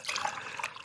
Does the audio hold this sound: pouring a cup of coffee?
yes